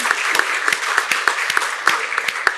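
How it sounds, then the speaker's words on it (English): Audience applause at a city commission meeting, a steady wash of many hands clapping with sharper individual claps standing out, sustained throughout without talk. "Let's give everyone a round of applause."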